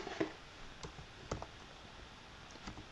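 Typing on a computer keyboard during an apparel design tutorial, a handful of light, scattered key clicks over a quiet background.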